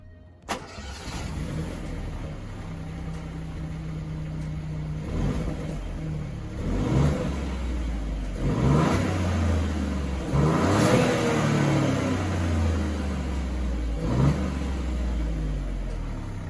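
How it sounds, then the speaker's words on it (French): A 2020 Peugeot Rifter's engine starts with a sharp catch, then idles low and steady. Several moderate revs swell and fade in turn, none of them very loud. "je vous propose d'écouter le bruit de ce moteur"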